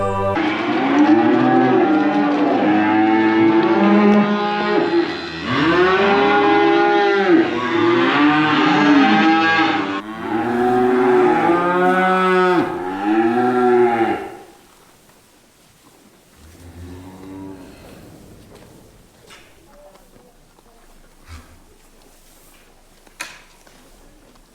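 Cattle in a cattle court full of cows and calves give repeated long, loud moos that overlap for about fourteen seconds. Quieter background sounds from the shed follow, with a faint distant moo and a few knocks.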